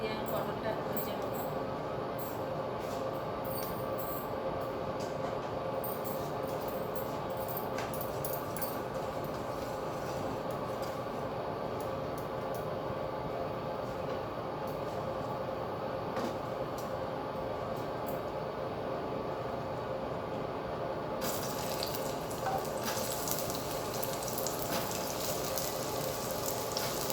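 Pointed gourd (potol) frying in a little oil, a steady soft sizzle and crackle running throughout at moderate level, close by, with no talk over it.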